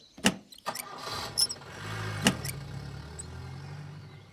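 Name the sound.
car engine starting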